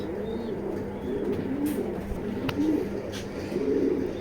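Foreign-bloodline pigeons at a loft coo in repeated soft, low, rolling phrases at moderate loudness, over a faint background hum, without talk.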